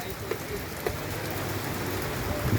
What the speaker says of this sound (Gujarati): શાંત વાતાવરણ છે પવન નથી અને મીઠો વરસાદ પડે છે